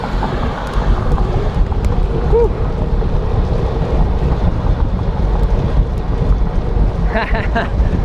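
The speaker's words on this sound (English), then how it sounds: "It's always windy up here." Strong wind over an open field buffets the microphone in a constant low roar during a chilly bike commute, with faint traffic-like rumble beneath and a few brief higher tones near the end.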